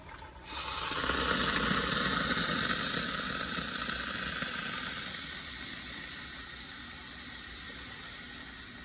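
Steady broadband hissing of steam from a barbecue smoker's water reservoir, cooking pulled pork, starts abruptly and runs continuously, fairly loud and close, with a faint mechanical whir underneath.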